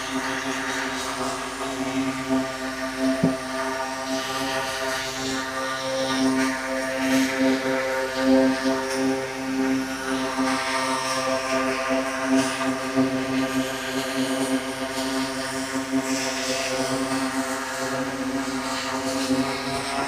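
A DJI Mavic drone hovers nearby with a continuous high buzzing whine from its propellers, holding an even pitch throughout with slight wavering, and no talk over it.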